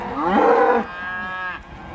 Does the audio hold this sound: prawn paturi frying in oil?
no